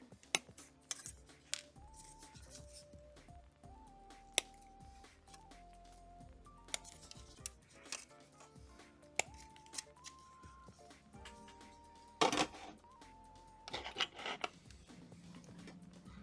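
Hobby clippers snip plastic miniature parts for Marvel Crisis Protocol figures, giving sharp, sparse cutting clicks and small handling noises over soft background music.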